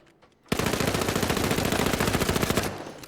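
Rapid automatic weapon fire in the video game The Finals, a sustained close burst of about two seconds starting abruptly after near silence, then tailing off.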